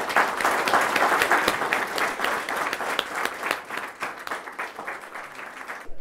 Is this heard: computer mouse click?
no